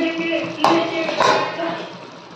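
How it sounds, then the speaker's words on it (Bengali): A metal lid is lifted off a cooking pot of poppy-seed curry simmering on low steam, giving two sharp clinks of metal on metal over a faint hiss of cooking. "তো কিছুক্ষণ পর এই যে ঢাকনাটা খুলছি"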